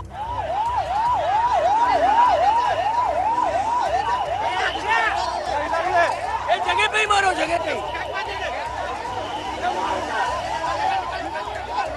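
A wailing ambulance siren rises and falls repeatedly, loud and continuous, with crowd chatter and street noise around it, at a BEST bus crash scene on LBS Road, Kurla.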